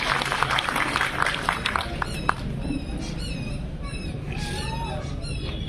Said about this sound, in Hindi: डॉक्टर AK अलवी साहब और डॉक्टर आसिया परवीन साहबा के लिए जोरदार तालियां